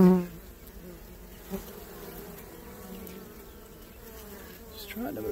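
Honey bees buzzing thickly on the comb of a cutout hive, a dense steady drone close by, with a short bump of handling noise near the start and end.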